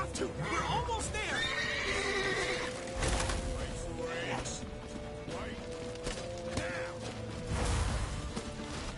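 A horse in the video game The Witcher 3 neighs and whinnies repeatedly amid clattering hooves and crashing action sounds, with voices talking over parts of it.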